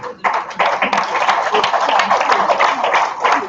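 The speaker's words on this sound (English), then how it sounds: "Give yourselves a round of applause." Crowd applause at an auctioneer competition event, dense steady clapping from many hands that holds fairly loud throughout.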